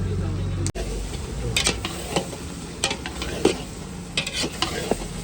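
Whole garlic cloves go into a sizzling whole-garlic vegetable curry at a Talaja eatery, with steady frying hiss, a spoon scraping and stirring the pan, and occasional clinks of metal.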